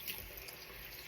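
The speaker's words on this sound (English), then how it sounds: "I'm sure you can hear the water running here" Water runs from a bathroom tap into a sink during a nightly skincare routine, a soft continuous splashing stream that stays low and steady for a brief moment.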